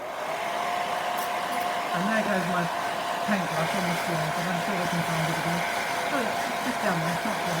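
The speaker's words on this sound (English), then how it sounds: "We're going to dry it with a hairdryer." A hairdryer blows steadily on a wet watercolour painting of a tree trunk, a loud continuous whirring hum that runs without a break while someone talks over it.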